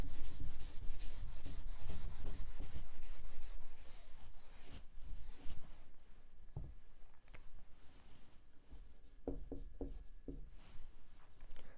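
A classroom blackboard being erased by rubbing, with steady scratchy strokes at first, then more broken, uneven wiping and a few tapping knocks, close and fairly loud.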